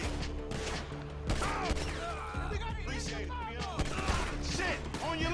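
Gunfire in Grand Theft Auto V during a botched bike repossession, bursts of shots and crashes over a busy game soundscape with music-like tones, continuous and moderately loud.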